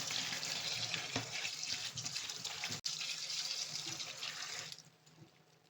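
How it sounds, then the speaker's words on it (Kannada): Cold tap water runs steadily over boiled pasta in a kitchen sink, a continuous close splashing rush that cuts off near the end, leaving quiet. "ಸ್ವಲ್ಪ ತಣ್ಣೀರಲ್ಲಿ ತಳ್ಕೊಂಬಿಡ್ತೀನಿ ಇಲ್ಲಾಂದರೆ ಅಂಟ್ಕೊಂಬಿಡುತ್ತೆ"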